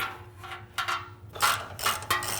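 A hand ratchet snugs down the bolts on an Ironman 4x4 rear tow bar being fitted to a Jeep Wrangler JL Unlimited, working from the middle. Several bursts of rapid close clicking are heard in short separate runs.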